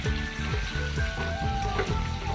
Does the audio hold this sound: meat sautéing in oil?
yes